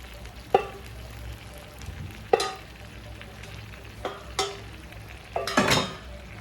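Artichokes dropped into hot oil hiss and crackle in a low, steady fry, broken by several sharp clattering bursts as pieces go in and are moved around. No one speaks.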